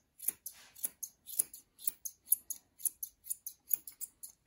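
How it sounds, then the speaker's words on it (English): Curved grooming scissors trim the head coat of a Portuguese Water Dog, making a quick, regular series of about a dozen crisp, close snips, quiet and alone. "So these are curved scissors,"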